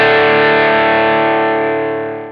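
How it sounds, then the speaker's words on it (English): Electric guitar played through a Tube Screamer overdrive pedal gives a crunchy, distorted chord that rings out loud and sustains alone before slowly fading away. "The thing with this Tube Screamer, it's a crunchy sound."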